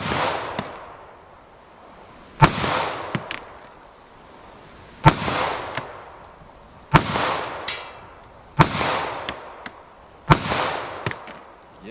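A handgun fires about seven shots at steel targets set out at long range on an outdoor range, each a loud sharp crack with a trailing echo, spaced unevenly and heard without talk.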